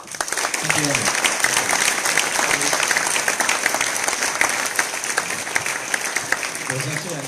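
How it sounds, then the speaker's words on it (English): A conference audience applauds after a talk at an open security tech meetup, with loud, continuous clapping close by and a voice briefly audible over the clapping near the end. "Big applause to him."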